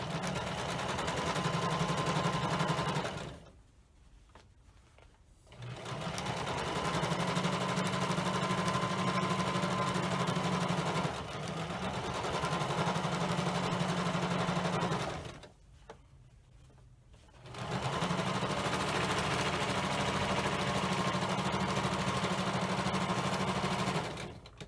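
A sewing machine stitches the seams of fabric gaiters in three long, steady runs of whirring motor noise, each broken by a short pause between passes, close and alone with no talking.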